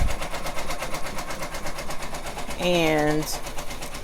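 A sewing machine runs continuously, stitching with a steady rhythmic mechanical whir close by, and a voice briefly speaks over it near the end.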